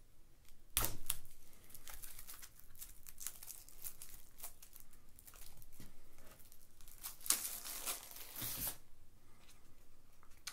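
Foil card packs for the Eminent Domain Escalation expansion are torn and crinkled open by hand, with bursts of ripping and rustling broken by short pauses, close and fairly loud with no talking.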